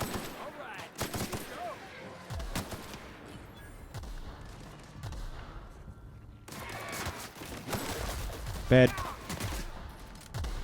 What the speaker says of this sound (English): there's also somebody shooting at us